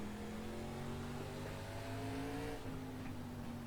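Several race car engines roar together in an ARCA stock car video game race at Lanier, their steady droning pitches rising and shifting as cars run three wide in traffic, loud and continuous.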